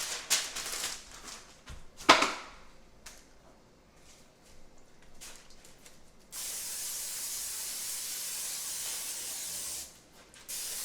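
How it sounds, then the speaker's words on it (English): Short hissing bursts of aerosol cooking spray onto a baking tray, followed by a steady, sustained hiss that runs for several seconds before briefly cutting out and resuming. "we're supposed to spray them"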